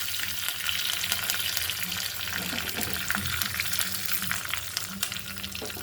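Dried red chillies and curry leaves sizzle and crackle in hot tempering oil for a Telugu amaranth and sorrel leaf tamarind stew, a steady close frying hiss with occasional stirring scrapes and no talking.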